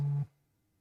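A phone gives off a steady electronic tone that holds for a moment and then cuts off sharply, leaving near silence, with no voices present.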